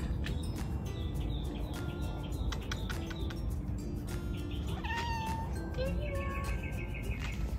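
A pet cat meows several times in short, rising calls, fairly faint against steady background noise, with a few bird-like chirps in between.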